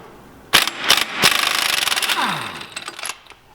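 Loud bursts of a pneumatic impact wrench rattling against a 32 mm front axle nut on a Saab 900 or 9-3, a few short hits followed by a longer rapid hammering run, close by.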